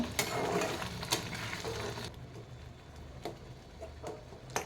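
Rava upma mixture stirred in a pan with a spoon: quiet scraping and soft clicking strokes, busier at first, then sparse taps spaced out, close and low in level with no talk.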